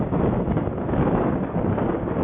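Strong storm wind in the city of Stavropol, a loud continuous roar of gusts buffeting the microphone, dense and steady with no voices.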